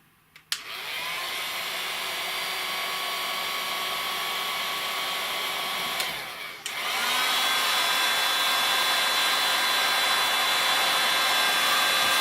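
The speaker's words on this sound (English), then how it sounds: "So I'm just going to get a heat gun now, and we'll give that a bit of a quick blast." A heat gun blows steadily on heat shrink over wires, a loud continuous hot-air roar that cuts out briefly near the middle and then resumes at full force.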